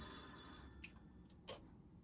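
A telephone rings faintly in a quiet room during a stage play, a steady electronic trill with a couple of soft knocks or clicks partway through.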